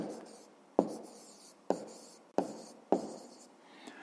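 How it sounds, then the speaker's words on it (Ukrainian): A pen writes on paper close up, quiet scratching strokes broken by four distinct taps as the tip lands, spaced roughly evenly and then trailing off. "записуємо тоді відповідь"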